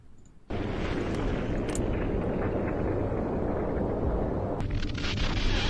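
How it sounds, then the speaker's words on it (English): Played footage of the Tsar Bomba nuclear test, a sudden deep roaring rumble that hits after a quiet half second and sustains loud and broadband to the end, with wind-like buffeting and no talk. "Tsar Bomba, there it is. It's not the biggest. This is the most powerful bomb ever."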